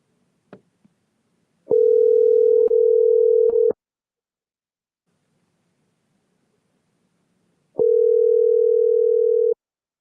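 Telephone ringback tone while a number is being dialed: two long, steady electronic tones several seconds apart, clear and close, with a couple of faint clicks before the first.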